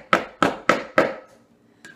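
Four sharp, evenly spaced hammer blows ring out close and loud while a vintage chair is being refurbished, then a fainter tap follows after a short pause.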